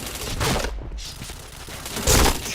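Bursts of rapid gunfire from the shooter video game Point Blank, a dense fusillade in the first half and another loud burst near the end, with a short quieter gap between.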